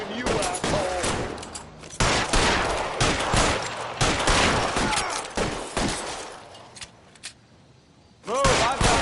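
Rapid bursts of gunfire from a shootout in the detective game L.A. Noire, loud and close, come in several clusters with short gaps between them, and a final volley lands after a brief lull. Voices talk underneath the shots.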